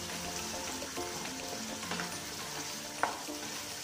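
Gongura chicken masala frying in a pan, stirred steadily with a spoon, gives a soft continuous sizzle with light scraping and one brief clatter, no talking.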